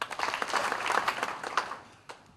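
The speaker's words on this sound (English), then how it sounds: "I think you need to clap for yourselves." A gathering of people at a Hindu Council event in a hall claps briefly, a dense scatter of hand claps that swells and then thins out over about two seconds.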